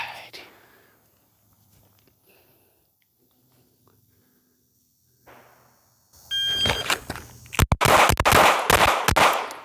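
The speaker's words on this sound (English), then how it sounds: "the split bill drill, which is draw, fire 4 to the body, and in transition and fire 2 to the 4-inch circle" Pistol shots in a split bill shooting drill, four to the body then two to a 4-inch circle: a quiet lead-in with faint movement, then a rapid string of sharp, loud gunshots close by.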